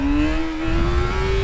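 A 600cc motorcycle revs hard and close for a throttle-up wheelie, its engine note rising steadily and loud throughout the short burst, with no talking.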